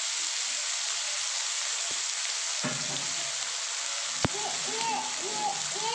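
Hot oil sizzles steadily as katla fish pieces fry, with a couple of sharp clinks and a faint whistling tone in the background.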